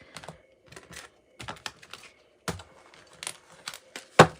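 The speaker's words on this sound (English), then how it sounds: "we're just going to cut this deck" A Dreams of Gaia tarot deck being cut by hand, giving close, crisp papery snaps and riffling flicks in short separated bursts, ending in a sharper slap, with no talking.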